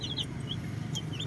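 Newly hatched chicks and chickens on a backyard poultry farm, with soft high peeps and clucks over a steady low background hum, fairly near and continuous.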